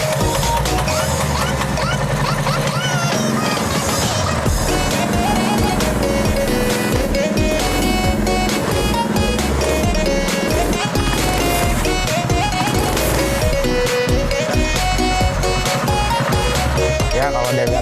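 A small water pump engine fitted to a motorcycle runs continuously after a pull-rope start, a loud, busy, rattling drone with no pauses.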